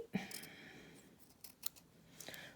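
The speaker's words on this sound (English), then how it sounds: "I'm just gonna trim around the edges of that just to kind of neaten everything up." Scissors trim the edges of a St Patrick's Day hair accessory made with buttons, giving a few quiet, close snips spaced across a soft background with no clear talking.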